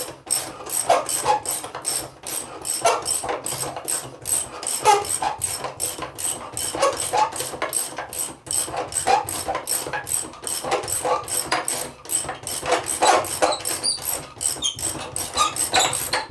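Rapid ratchet clicking as a socket wrench tightens a cartridge filter housing, a fast continuous metallic rhythm of short ticks, close and loud with no talk.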